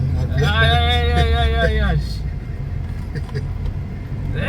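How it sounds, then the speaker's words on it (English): A BMW E30 fitted with a Japanese engine and a reinforced chassis accelerates hard. Its engine note climbs loud and steady for about two seconds, then drops to a lower cabin rumble with faint voices in the background. "That is more acceleration than the E30 chassis is built for."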